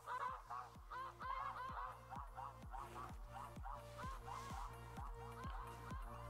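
Snow geese honk continuously in the hunting video game theHunter Classic, a dense, overlapping flock chorus of repeated nasal calls, faint and steady, with a regular low rhythmic beat underneath.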